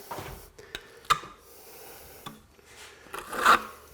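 A trowel scrapes and rasps tile adhesive across a surface, with short close scraping strokes and a few sharp taps, the last stroke loudest.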